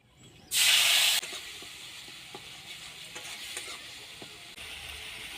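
Spice paste of dried red chillies mixed with water fries in oil, a sudden loud hissing burst up front that settles into a quieter sizzle with occasional stirring taps.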